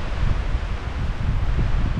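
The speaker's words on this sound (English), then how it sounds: "Relaxing is not a word I would be using for this wind." Strong wind roaring steadily across the microphone while camping, a dense rumbling rush with no voices.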